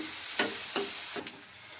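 Godavari fish and onions fry in a pan, a steady hiss broken by three short scraping stirs spaced evenly, close and moderately loud with no voices.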